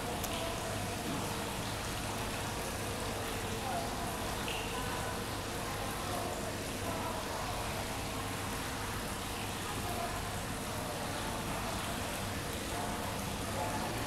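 Water at a pond gives a steady, dense splashing and trickling wash that continues without pause at low level.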